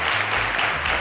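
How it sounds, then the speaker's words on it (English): A brief burst of steady studio-audience applause for a female contestant on a televised quiz show, dense and even throughout with no voices over it. "let's give her a round of applause"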